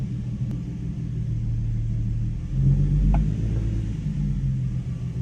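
A Nissan G35 or 350Z, with the clutch pedal just adjusted, idles with a low, steady engine rumble, then swells a little as it is put into reverse, with a small mechanical clunk.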